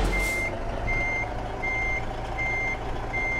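A truck backs up slowly in American Truck Simulator, its reversing alarm beeping in a steady, evenly spaced series over a low engine rumble, loud and close with no talk.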